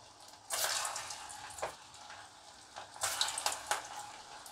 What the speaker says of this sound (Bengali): অল্প অল্প করে ভাজবো যাতে তেলটায় সব ভাজা হয় ভালো।